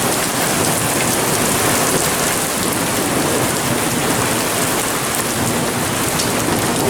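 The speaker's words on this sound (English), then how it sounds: "I think it's just raining now" Heavy rain pours down after an intense early-morning hailstorm in Clarksville, Indiana: a loud, steady, dense hiss of rain hitting surfaces that stays even throughout, with no one talking.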